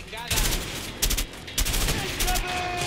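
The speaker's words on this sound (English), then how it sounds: "Oh, I'm getting shot. I'm getting lit up." Gunfire in the video game A Way Out comes in loud bursts of rapid shots, several volleys spaced about half a second apart over a steady background.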